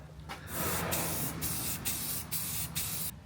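Aerosol spray paint hisses in light coats, with several short bursts separated by brief pauses, close and steady with no voices.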